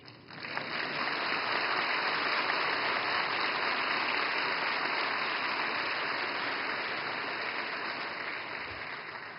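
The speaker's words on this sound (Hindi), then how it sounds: "और मुझे खुशी है कि सबसे ज्यादा तालियां इस बात पर पड़ी।" An audience at an opening ceremony in Mumbai breaks into dense, sustained applause, a steady wash of clapping lasting several seconds before slowly fading, with no talking.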